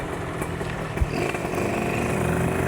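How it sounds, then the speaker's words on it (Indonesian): A Suzuki Satria two-stroke motorcycle engine drones steadily and builds in pitch as it revs, with a brief thump partway through, likely a speed bump, and constant road noise underneath. "Nariknya di atas banget motor ini."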